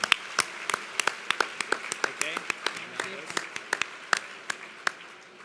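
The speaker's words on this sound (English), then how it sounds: "So would you all, just out of respect, just an applause" Scattered applause from an audience honouring someone at a National Philanthropy Day gathering, a few dozen claps with distinct sharp hits standing out, moderately near and steady for about five seconds before thinning.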